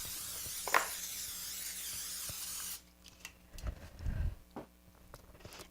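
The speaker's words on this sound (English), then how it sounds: "So we're going to spray our pan first." A can of cooking spray hisses continuously for a few seconds as a baking pan for apple crisp is coated, followed by quiet clinks and handling noises up close.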